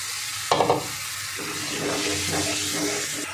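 Masala with chopped tomato and a splash of water is stirred and fried for a potato and paneer curry. A sharp burst of sizzle comes first, then steady frying with spoon scrapes, close and alone.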